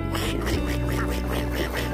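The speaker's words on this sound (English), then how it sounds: "I see you, little baby duckies." Ducklings quack in a quick, repeated series of short calls, close by and fairly loud.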